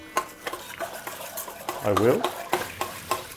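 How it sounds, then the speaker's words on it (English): A spoon stirs brioche dough in a bowl, with soft scraping and knocking strokes, a brief clink of the utensil, and a short spoken remark in the middle. "And then just stir it with the spoon a little bit in there."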